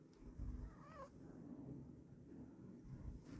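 A house cat makes a short, faint meow with a rising and falling pitch, soft and close, over a low background rumble.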